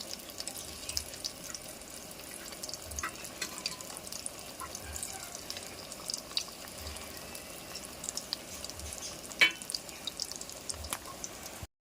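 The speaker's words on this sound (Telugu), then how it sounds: "వేసేసి వేపేసుకుంటే మటన్ కీమా బాల్స్ రెడీ అవుతాయి." Mutton keema balls fry in a pan with a soft, steady sizzling hiss dotted with faint crackles and occasional pops, heard at low volume for several seconds.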